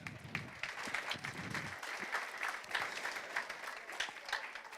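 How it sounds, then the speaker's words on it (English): Audience applause for Shane Andrews at a 2019 Hall of Fame induction ceremony, steady moderate clapping from a crowd that carries on through the whole stretch, with some low murmur early on. "give him a round of applause"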